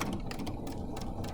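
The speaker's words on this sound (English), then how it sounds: "now I'm going to sew this closed with my tails inside, or the top of the bookmark." A sewing machine runs steadily as it stitches a fabric bookmark closed along the presser-foot edge, a close, continuous mechanical whir with faint rhythmic clatter and no talking.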